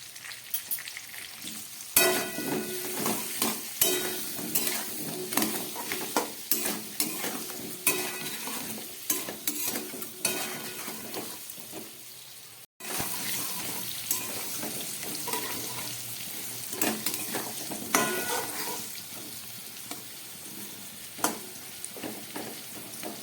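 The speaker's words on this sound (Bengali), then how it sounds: "কচু আলুটা আমার ভাজা হয়ে গেছে" Pieces of gathi kochu taro and potato fry in oil with salt and turmeric, a steady close sizzle broken by repeated scraping stirs, with a brief pause midway.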